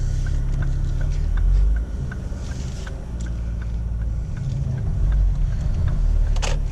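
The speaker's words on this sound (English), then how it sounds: "Nice pops and bangs from the exhaust." A 2010 Ford Focus RS drones at low speed, its engine a steady close rumble from inside the cabin, broken by a few brief sharp exhaust pops, the loudest near the end.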